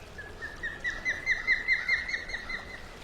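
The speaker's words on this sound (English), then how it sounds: "This composition by audio producer Bill McQuay recreates what Manhattan Island might have sounded like before the" A recreated soundscape of Manhattan Island before the city was built, carrying repeated bright bird chirps and calls in a steady, quick rhythm at moderate distance over a soft background hush, with no voices.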